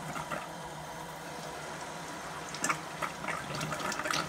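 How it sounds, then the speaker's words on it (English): Water running steadily through a Kangen SD501 water ionizer machine, a continuous close hiss and rush of flow with a few splashy bursts toward the end. "You want to let it run through the machine at least for a minute of water so it cleans out all the plates."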